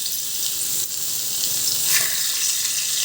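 Boal fish pieces fry in hot oil in a wok, giving a dense, steady, loud sizzle that swells slightly near the middle. No one speaks over it.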